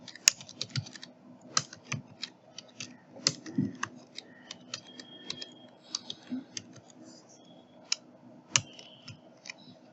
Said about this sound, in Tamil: சூஸ் பண்ணிவிட்டு ஹெட்லைன் அப்படின்னு அதில் டைப் பண்ணிக்கிறேன்